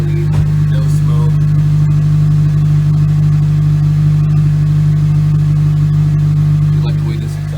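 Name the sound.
Honda Civic Si K24 engine swap revving, exhaust sound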